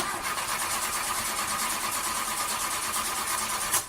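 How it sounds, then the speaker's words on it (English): A car engine cranks over in a steady, continuous whirring grind during an ignition start, with a short louder burst at the very end. "When your car's ignition begins to sound like this"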